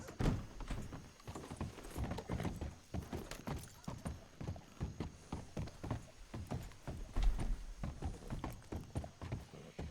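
Horse hooves clip-clop at a steady walking rhythm in the Red Dead RP video game, played fairly quietly with evenly spaced, dull thuds and no talk over them.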